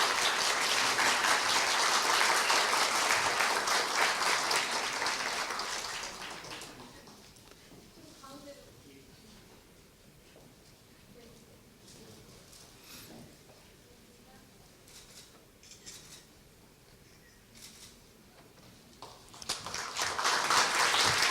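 An audience at a Korea University staff retirement ceremony claps loudly through a gift presentation, then the applause fades into a quiet stretch with soft talk and scattered sounds before a fresh burst of clapping rises at the end.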